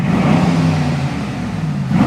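Brabus GLS 900, a 2024 900 hp tuned Mercedes SUV, revving its engine up close: a loud, steady deep growl held for about two seconds, slightly rising at the end, with no talking.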